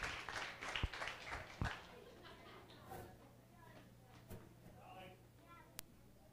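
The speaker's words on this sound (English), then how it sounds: "let's give Miss Becky a big round of applause" An audience at a church Christmas service applauds the writer and director of a children's play. A burst of scattered clapping rises over murmuring crowd chatter, then fades as a voice begins speaking.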